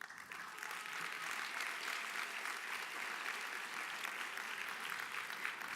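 Audience applause at a school winter orchestra concert, steady sustained clapping from a crowd filling the hall at a fairly low level throughout, with no talk over it.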